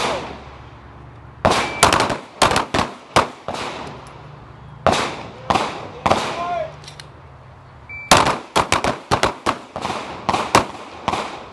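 Pistol fire at an outdoor defensive shooting range at the Sig Sauer Academy: loud, sharp gunshots fired in rapid, uneven volleys from several shooters, with pauses between strings and echoing reports.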